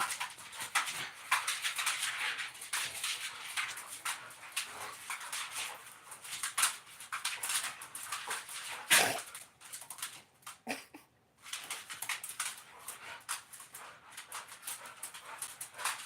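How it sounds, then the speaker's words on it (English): Several pet dogs play-fight indoors, with low growls, whimpers and scrabbling toenails on the floor in bursts, close by and moderately loud, and short quiet gaps between scuffles. "Toenails and growling."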